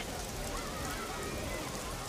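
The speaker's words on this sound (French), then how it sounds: "la pluie qui tombe sur Fadan et qui met fin à la sécheresse" Steady rain falls in a dense, even hiss across the whole stretch, with no other sound standing out.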